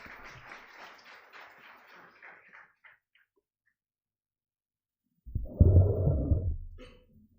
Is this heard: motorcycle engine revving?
no